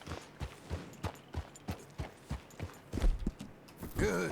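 Horse hooves walking in the video game Red Dead Redemption 2, a steady clip-clop rhythm of soft thuds at a calm pace, fairly quiet and close, ending with a brief snort or breath.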